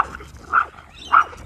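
A pitbull gives two short, sharp barks, close and clear, about half a second apart with quiet between them.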